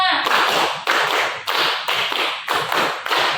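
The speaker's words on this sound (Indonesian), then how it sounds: "Tepuk tangan." A classroom of students claps in unison on a teacher's cue, about six sharp, evenly spaced group claps in a steady beat, each ringing briefly, loud and close.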